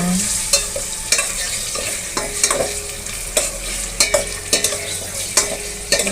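Chicken frying in a pan while being stirred, with a continuous close sizzle broken by repeated sharp scrapes and clatters of a utensil against the pan at a loose rhythm, no talking.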